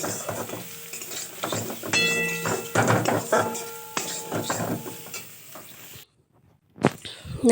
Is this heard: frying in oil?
yes